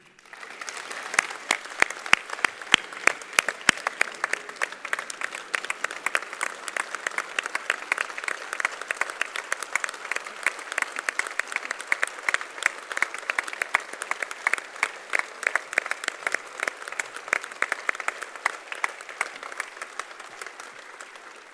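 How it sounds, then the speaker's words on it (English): A union congress audience at GMB Congress 2019 applauds striking women with loud, steady clapping that runs unbroken for about twenty seconds, with sharp individual claps standing out in a dense wash of sound. "that applause is for all the women who went on strike"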